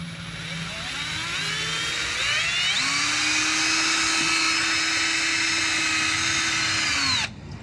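A power drill whines steadily as it bores a hole, its pitch rising as the motor speeds up, loud and close, then cutting off at the end.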